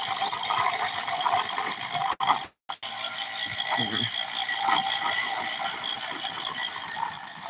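A rusty homemade firework spinner turns with a steady ratcheting, gritty clicking, close and continuous, briefly dropping out for a moment before resuming.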